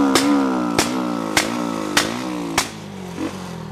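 A Honda Today scooter's small engine revs in a string of sharp blips, about five evenly spaced throttle bursts over a steady idle hum, close and fairly loud, with no talking.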